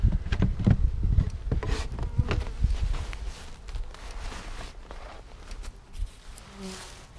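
Honey bees buzz around a package colony hive outdoors, a continuous close swarm hum with rustling and handling knocks, loudest at the start and easing slightly later.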